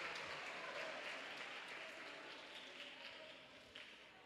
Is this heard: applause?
yes